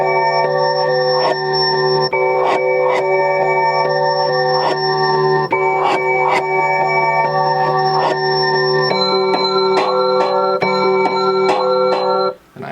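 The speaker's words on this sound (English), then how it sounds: "This is actually the sample played backwards" A reversed music sample for a beat's bridge or pre-chorus, with sustained tonal layers swelling into repeated sharp bell-like accents, steady and loud throughout with a brief drop at the very end.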